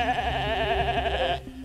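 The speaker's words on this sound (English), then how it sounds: "Remember Dolly the sheep" A single sheep bleats loudly and close up in one sustained, wavering call lasting over a second before cutting off.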